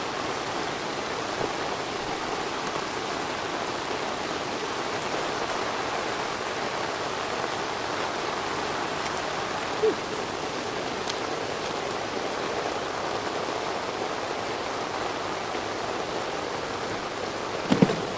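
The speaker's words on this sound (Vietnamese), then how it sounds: "mưa quá ướt hết rồi các bác ạ" Heavy rain pours steadily on an outdoor fishing spot, a dense continuous hiss throughout with a few faint knocks and no talk.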